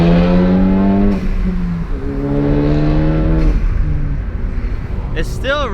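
A Ford Focus fitted with an AWE Track Edition exhaust revs loudly and steadily, its engine note rising and falling through several sustained revs, with a faint voice briefly near the end.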